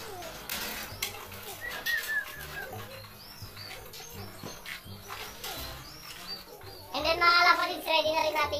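Breeder hen pigeons coo in a loft, with low soft coos, scattered chirps and a burst of busier calls and rustling near the end; a person speaks intermittently underneath.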